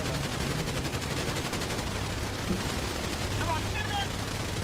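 Dense, rapid gunfire from the GTA video game crackles continuously as a steady, noisy barrage, with voices talking over it.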